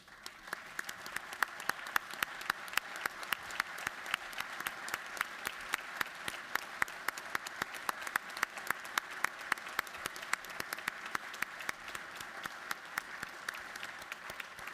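Sustained applause fills the Georgia House chamber as members rise for soldiers, steady dense clapping from a large crowd throughout, fairly distant and even.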